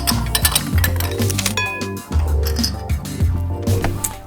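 Glass votive candle holders clink together as they are mixed by hand, scattered light chinks and taps over a steady background of music.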